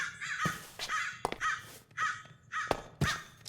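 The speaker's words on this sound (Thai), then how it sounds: "เสียงอีกาดำเยอะมากเลย" Harsh crows cawing repeatedly in Minecraft with the RLCraft modpack, about half a dozen loud, raspy calls in an uneven rhythm, with no talking.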